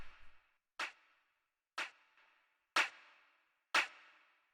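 Four electronic claps for an atmospheric house track, saturated and trailed by reverb tails, evenly spaced about a second apart, with the later hits slightly louder; no voices.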